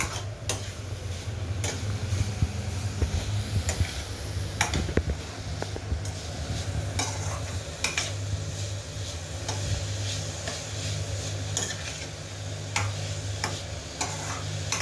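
Carrot halwa is cooked in ghee over a low flame and stirred steadily, with soft repeated scrapes and occasional light ticks from the utensil over a low, constant hum and a faint sizzle.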